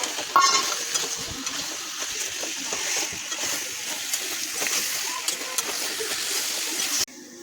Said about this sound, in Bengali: মাংসটাই ভালো করে কষিয়ে নিচ্ছি